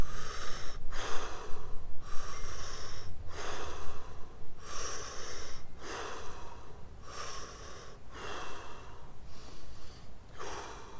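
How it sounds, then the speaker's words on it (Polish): Rapid, deep breaths cycle rhythmically through the mouth in Wim Hof breathing, each forceful inhale followed by a quick exhale, close to the listener and with no talking. "Więc zaczynamy od serii 30 wdechów i wydechów."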